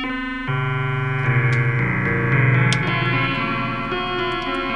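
Waldorf Blofeld synthesizer playing a notch tooth oscillator waveform, a bright buzzing sustained tone with dense harmonics that shifts pitch in stepped notes, loud and close with no voices.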